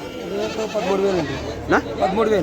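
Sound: goats bleating

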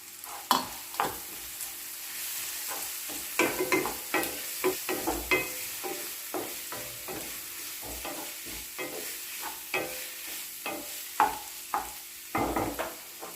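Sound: stirring ginger garlic paste and turmeric in hot oil

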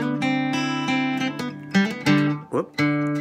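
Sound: guitar riff

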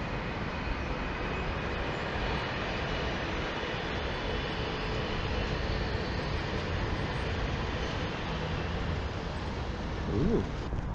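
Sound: train passing

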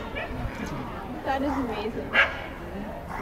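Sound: dogs barking

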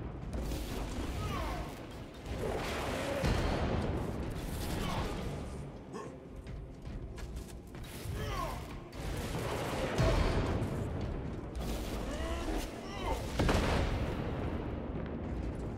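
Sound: Thunder Hammer ground slam attack in a video game

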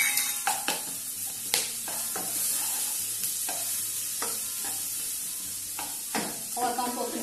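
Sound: red onion frying in lard in a hot pan

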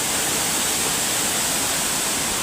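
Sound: roaring waterfall

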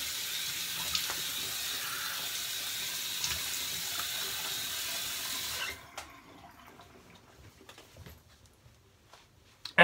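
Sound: cold water running from tap for razor rinse

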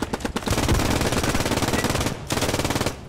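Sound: MG42 machine gun firing, video game

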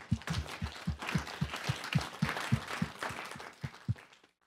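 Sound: round of applause for the panel

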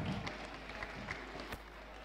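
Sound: audience clapping for a woman

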